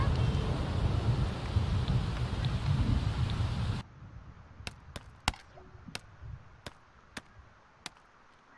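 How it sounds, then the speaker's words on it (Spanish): Heavy rain pours in a dense, hissing roar, then cuts off abruptly, leaving quiet with a series of sharp, evenly spaced clicks. "Pero está lloviendo increíblemente."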